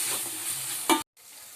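Onions fry with a paste of coriander, poppy seed, cumin and garlic, a brief close sizzle and stir ending in a sharp scrape before cutting to near silence.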